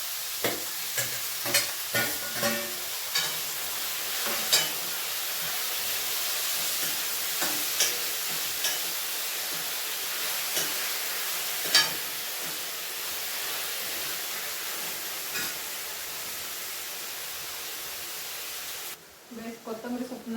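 Tomatoes sizzling and frying in a pan for tomato gojju, with a steady hiss broken by repeated clinks and scrapes of stirring, and faint talk now and then.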